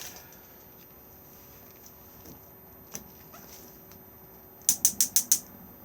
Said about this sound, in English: If I just take out the grill pan for a moment.